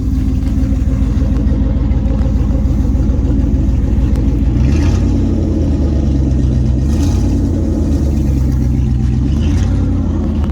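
A second-generation Dodge Ram truck's 360 V8 engine, with no muffler, rumbles steadily and loudly, with a few light revs rising and falling over a deep, throaty idle.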